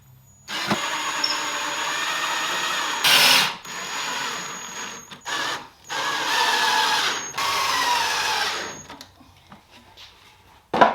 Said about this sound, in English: When I'm reattaching a base, I like to screw it into the middle first, level it all out, and then finish attaching the rest of the base around the dresser.